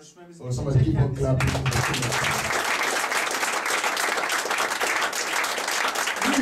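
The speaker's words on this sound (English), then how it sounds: "Somebody clap for me." A church congregation breaks into loud, sustained clapping and applause after a preacher's short spoken lines, the dense crowd clapping holding steady to the end.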